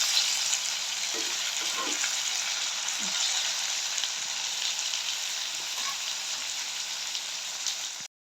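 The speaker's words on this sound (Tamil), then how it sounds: "கருவாடை பொறிப்போம்" Dried fish sizzles steadily as it fries in a pan, a continuous bright crackle with a few soft scrapes, close and moderately loud throughout with no talking.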